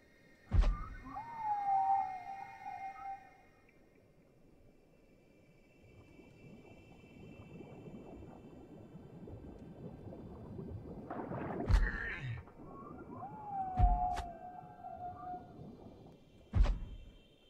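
Whale calls in the underwater game FarSky: several short, wavering tonal moans rising and falling, separated by sharp clicks and thumps over a low murky rumble of water.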